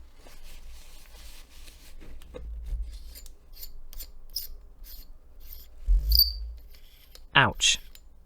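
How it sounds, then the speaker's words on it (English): Soft tissue rubs across a Soligor 135mm f2.8 lens element, producing faint, close scratchy strokes in short bursts against a quiet background. "I decided to give a rub with a soft tissue, the ones that leave no fibers loose."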